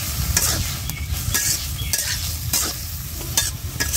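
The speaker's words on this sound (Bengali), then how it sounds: "পেঁয়াজ দেওয়ার পরে আর একটু ভাজা ভাজা করবো চরচড়িটা" Charchari vegetables with onion sizzling in a pan, a dense steady frying hiss broken by repeated sharp scrapes and clinks of a spatula stirring, close and loud throughout.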